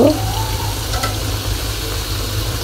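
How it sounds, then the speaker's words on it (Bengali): Bhelpuri frying in hot oil in a home kitchen, a steady close sizzle with faint stirring and a brief splash at the start. "এভাবে আমি এখন বেলপুরিগুলোকে ভেজে নিব।"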